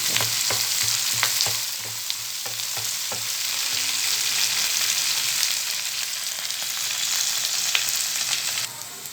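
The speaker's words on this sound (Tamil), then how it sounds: "சேர்த்துட்டு இது ஓரளவுக்கு வதங்கி வரட்டும்." Onions sautéing in a pan for a Tamil ivy gourd (kovakkai) poriyal, a steady close sizzle with a quick run of stirring scrapes near the start and continuous frying after, no talk.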